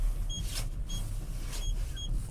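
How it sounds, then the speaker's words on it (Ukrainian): Parking sensors on a Skoda Fabia emit short, evenly spaced electronic beeps, about four in quick succession, over a low steady cabin hum. "Парктроніки, як ви чуєте, працюють."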